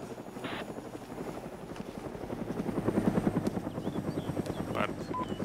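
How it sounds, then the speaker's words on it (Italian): A helicopter thrums steadily in a zombie video game, its rotor chop continuous and building slightly louder toward the middle, with brief game sound effects cutting in now and then. "Ce n'è due elicotteri."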